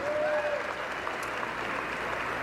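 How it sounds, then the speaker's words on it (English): Crowd applause at the Ontario Parasport Games opening ceremony, a broad, steady wash of clapping from a large audience, with a faint tonal voice or whistle briefly audible early on. "Round of applause."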